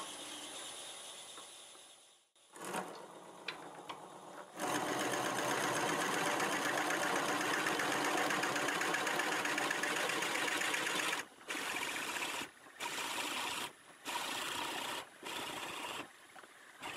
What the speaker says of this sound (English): I'll go ahead and drill this out,